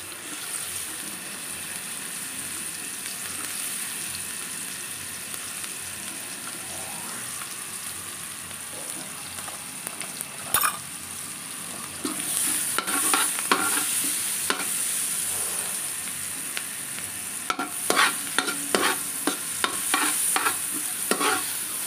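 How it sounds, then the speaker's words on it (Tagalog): Onion sautéing in Star margarine sizzles steadily in a pan, joined partway through by irregular stirring scrapes and clinks of a utensil against the pan. "Una nating igisa ay onion."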